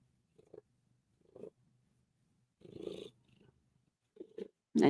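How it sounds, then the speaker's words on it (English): A cat purrs in short, soft rumbling bursts, close and quiet, separated by brief pauses, with a louder sudden noise at the very end and no speech. "Can we get some purring for the people?"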